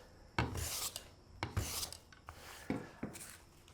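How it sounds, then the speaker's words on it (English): A scrub plane cuts diagonally across a rough wooden board on a traditional workbench, making several quick, rasping strokes at a close, uneven rhythm with short pauses between them. "I can start planing diagonally now, and the board stays nice and secure."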